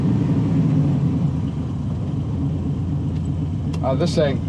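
A 1969 Chevrolet C10 pickup with an LS3 V8 and a 6-speed manual on the move, a steady low engine rumble and road noise inside the cab, with someone talking briefly near the end.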